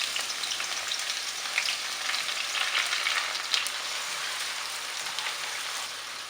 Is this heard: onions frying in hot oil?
yes